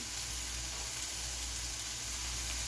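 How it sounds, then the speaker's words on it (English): Steady, soft sizzling of chicken frying in a hot cast iron pan, a continuous crackling hiss with no talking. "All that sizzle."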